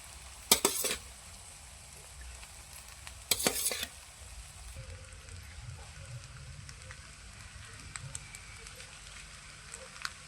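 Vegetable fried rice with ginger, garlic and green chilli paste being stirred in hot oil in a pan, a soft, low sizzle with a couple of sharp, loud utensil clatters early on and faint scraping afterward.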